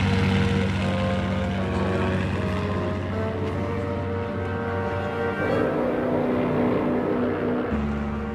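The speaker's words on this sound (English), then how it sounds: "On the 13th of June 1917, 14 German Gotha bombers took off to bomb London." Several German Gotha bomber aircraft of World War I with propeller engines, a loud steady multi-engine drone and rumble lasting throughout, with no talk.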